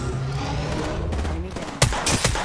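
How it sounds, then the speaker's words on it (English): Rapid weapon fire in the shooter Apex Legends, dense bursts of shots crackling close and loud, overlapping with game sounds and a talking player. "I'm being shot from height"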